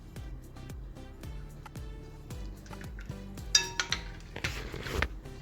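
A spoon stirs Rooh Afza into a watermelon milkshake, giving a run of rhythmic metallic clinks against the glass that turn into louder, busier scraping and clattering near the end.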